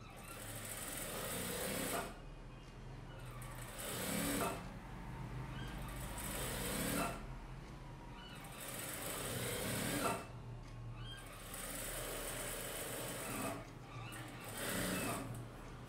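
A sewing machine stitches a blouse border in loud, close bursts of rapid needle chatter, running for a second or two at a time with short pauses between.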